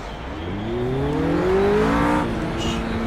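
A race car in Project CARS on Xbox, driven with a Thrustmaster TX wheel, accelerates with a steadily climbing engine whine through the gears, loud and continuous, with a brief shift near the end.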